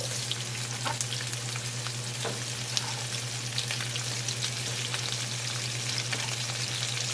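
Six tomatoes frying and being stirred in a pan for an upo dish, a steady close sizzle with occasional scraping stirs throughout.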